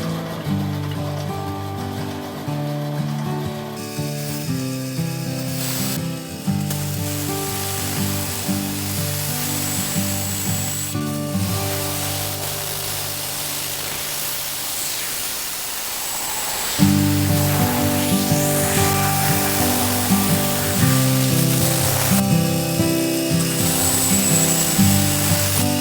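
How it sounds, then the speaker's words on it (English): A bandsaw cutting a knife blank out of fallen eucalyptus wood in a home workshop: a loud, steady motor hum and blade whir running throughout, changing pitch as the cut loads and eases, with no talking. "this knife blank I have to cut out with the bandsaw"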